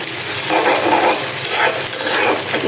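Dried fish tempering sizzles loudly in a pan, a dense close crackling hiss with stirring scrapes, steady and unbroken throughout.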